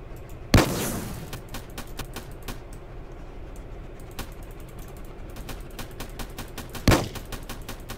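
Automatic rifle fire in the Roblox tank game Armored Patrol: a steady, fast stream of light rapid shots running throughout, punctuated by two loud heavy blasts near the start and end.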